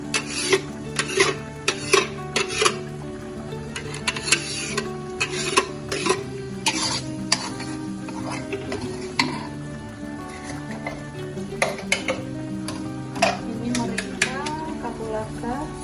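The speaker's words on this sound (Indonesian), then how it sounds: "Kita tuangkan bumbu yang sudah saya haluskan." Ground spice paste is poured into a pan and stirred for beef rendang, with repeated scraping strokes and clinks of a utensil against the pan over a light sizzle and faint background music.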